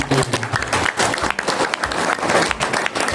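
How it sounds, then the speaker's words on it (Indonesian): Audience applause at an Indonesian home-sharing gathering: dense, steady clapping from many hands filling the whole stretch, close and fairly loud, with a faint voice briefly under it at the start. "Berikan tepuk tangan untuk Bapak."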